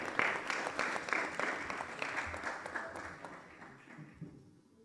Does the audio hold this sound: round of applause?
yes